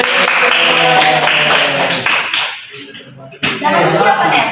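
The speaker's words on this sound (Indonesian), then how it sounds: "Ya, tepuk tangan dulu teman-teman." Schoolchildren in a classroom clap their hands together in a dense, loud burst of overlapping claps that briefly thins and then picks up again, with no speech.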